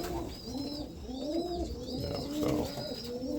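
Roller pigeons and their young coo close by in a loft, rolling throaty calls overlapping in a steady rhythm with higher squeaky notes from the babies mixed in.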